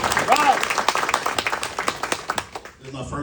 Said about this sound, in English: give the Crumps a round of applause for their successful business